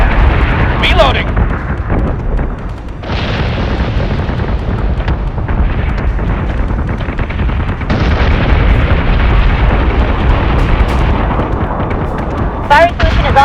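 Warship cannon fire and explosions in the Battlestar Galactica Deadlock video game, a dense, loud, continuous barrage of booms and blasts with sharper metallic bursts, while voices give commands over the din.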